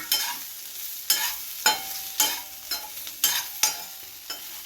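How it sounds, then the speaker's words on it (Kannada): Marinated paneer is tossed with fried onions in a pan for a garlic paneer dish, with a soft background sizzle broken by about eight sharp scraping stirs at an uneven rhythm and no speech. "ನಾನು ಇದಕ್ಕೆ ನಾವು ಆಲ್ರೆಡಿ ಫ್ರೈ ಮಾಡಿ ಇಟ್ಕೊಂಡಿರೋ ಪನ್ನೀರ್ನ ಆ್ಯಡ್ ಮಾಡ್ತಾಯಿದ್ದೀನಿ"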